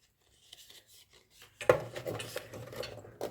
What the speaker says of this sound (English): I'm just burnishing it all down